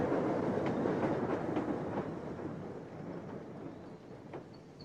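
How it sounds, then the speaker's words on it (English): A train rumbles in with a broad, steady roar that slowly eases off, with a few faint clicks and squeals over the rolling noise. "this is our train. It's here."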